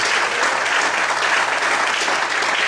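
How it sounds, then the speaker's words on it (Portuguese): A church congregation applauds in praise to the Lord during a service, a full, continuous wall of clapping from many people, loud and even from start to finish. "Quantos podem aplaudir e exaltar ao Senhor?"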